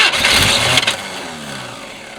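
Engine of a '78 or '80 Chevy squarebody pickup being cranked: a loud brief starter churn and catch in the first second, then a fading rumble.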